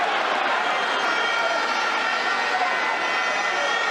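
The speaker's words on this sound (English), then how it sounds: "The Arnett crowd doesn't like it." A football stadium crowd at a playoff semifinal roars in a broad, steady wash of noise after a foul, loud and continuous throughout.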